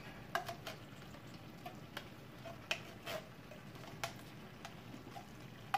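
A spoon stirs and mixes lasagna paste in a big pot, making quiet, irregular soft taps and scrapes against the metal over a low background hiss, close and faint.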